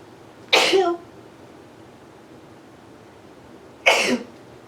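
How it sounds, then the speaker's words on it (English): Two short, sharp sneezes close by, about three seconds apart, with quiet room tone between them. "Oh, I'm going to sneeze."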